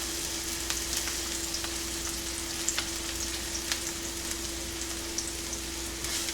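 An onion fries in a hot pan for quesadillas, a continuous steady sizzle with small crackles and pops throughout, close and fairly loud, accompanied by a low constant hum.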